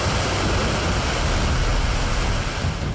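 Flash flood water rushing over the Mandi–Pathankot highway in Himachal during the monsoon, a loud, unbroken roar of torrent noise that holds steady throughout with no voices.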